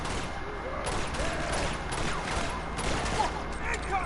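Gunfire in the video game Uncharted 2: Among Thieves comes as a continuous crackling barrage of shots over a noisy battle bed, steady throughout with no clear gaps.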